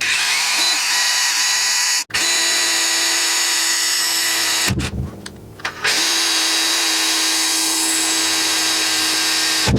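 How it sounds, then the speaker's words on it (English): A power drill with a number 7 drill bit whines loudly and steadily, stopping briefly twice and restarting, with a rougher grinding stretch in the middle as it bites through material. "So I've got the number 7 drill bit already on here."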